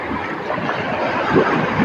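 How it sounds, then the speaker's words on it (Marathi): Big sea waves roll in at a beach, making a close, broad rushing wash that swells slightly toward the end, with wind noise mixed in. "लय मोठी लाट आली आहे"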